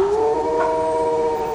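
A tame wolf howls in one long, loud, sustained tone that stays nearly level and slowly fades, with no other voices.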